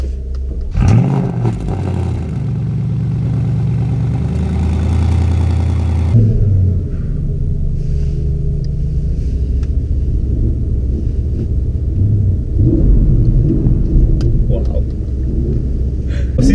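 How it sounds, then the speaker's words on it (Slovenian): A Porsche Panamera Sport Turismo fires up in a parking lot, its engine catching with a sharp rumble and settling into a steady, deep idle that continues close by and loud, with further engine noise in the background. "tako kot lansko leto bova začela v Panameri, ta je celo sport turizmo, tista ta večja, zdaj pa je čas, da užgem tole zverino"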